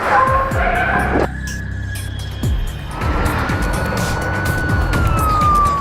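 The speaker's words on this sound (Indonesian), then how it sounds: "Tapi di tengah perjalanan, tiba-tiba ada polisi yang mengejar." Tires squeal and skid loudly during a police car chase, with a siren wailing and engines roaring close by. Sharp skids break off into brief lulls before the chase noise builds again.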